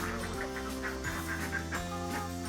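A flock of hungry laying ducks on a farm quacks continuously before feeding, their nasal calls overlapping in a steady chorus at moderate distance, with no talking.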